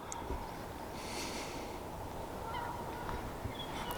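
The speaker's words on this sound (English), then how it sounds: "absolute mass of Canada geese." Distant Canada geese honking in a loose, overlapping chorus over steady outdoor wind noise on the Devon coast, faint and far off.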